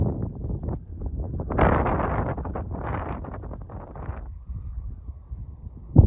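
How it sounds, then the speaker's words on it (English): Wind gusting outdoors beside a river along a scenic mountain byway in Idaho, buffeting the microphone in rough bursts that swell and fade over several seconds, loud and close with no talk. "Windy."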